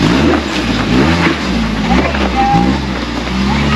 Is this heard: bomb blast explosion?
no